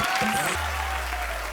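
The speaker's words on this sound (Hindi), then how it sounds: "इनके लिए जोरदार तालियां" A studio audience at a comedy show with Akshay Kumar and Sunil Grover breaks into loud, continuous applause, a dense wash of clapping throughout, with some voices early on and a low steady hum beneath.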